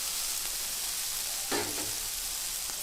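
Onions, green chilies and curry leaves sizzle in a pan, a quiet steady frying hiss with a brief stir-like clatter midway.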